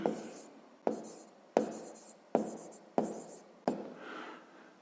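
A pen scratches numbers onto paper during a sixth-grade maths exercise: six short, evenly spaced writing strokes, close and fairly clear, with no talk.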